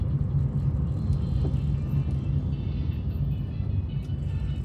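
A car driving at night through Blackpool, with a steady low road rumble and engine hum from inside the cabin and a faint whir throughout, no talking.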